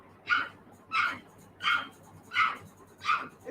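A person imitates a dog barking, giving five evenly spaced woof-like barks at a steady rhythm, close and moderately loud, with no other talk in between.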